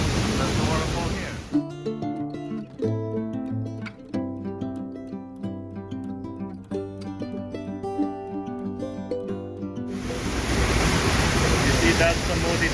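A waterfall at La Fortuna, Costa Rica, roars as a loud, steady rush of water at the start and again at the end, with music playing in between.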